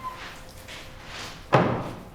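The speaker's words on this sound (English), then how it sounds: "That was a door that crashed." A door in a supposedly haunted house slams shut with a single loud thud after a brief quiet stretch.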